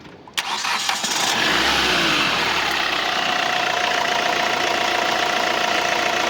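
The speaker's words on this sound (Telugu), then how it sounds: "ఇంజిన్ స్టార్ట్ చేస్తున్న ఇంజిన్ చూడండి" A 2017 Hyundai i20 Sportz engine cranks and catches, then settles into a steady, loud idle that hums on without a break.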